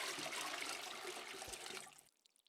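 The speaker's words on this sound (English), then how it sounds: "Shall I pour the water over your head to wet your hair?" Water poured over a head to wet the hair, a soft continuous splashing and trickling stream that fades out near the end, quiet and close.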